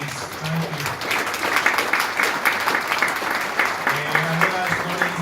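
Warm applause breaks out at a hotel charity ball, dense clapping swelling and holding from a seated crowd while a voice speaks briefly at the start and again near the end.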